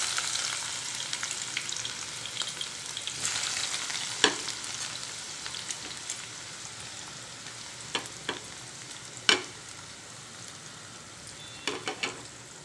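Onions deep frying in hot oil for a Nawabi chicken gravy, a steady quiet sizzle running throughout with a few sharp pops and spatters standing out, and no voices.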